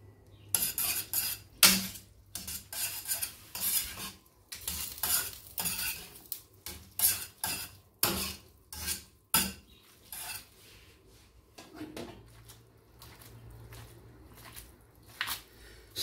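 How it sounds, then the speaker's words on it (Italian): Spaghetti is tossed and stirred in a pan of simmering red pepper cream. A utensil clinks and scrapes against the pan in irregular bursts, with soft wet squishing between them and no talk. "La crema di peperoni sta sobbollendo e siamo pronti ad aggiungere la pasta. Versiamo gli spaghetti nella padella."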